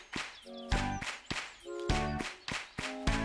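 Rhythmic hand claps in a simple repeating pattern for a children's counting song and clapping game, sharp and close, landing in steady pairs over a sung melody.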